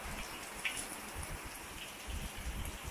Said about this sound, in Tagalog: So napakalakas ng ulan dito guys.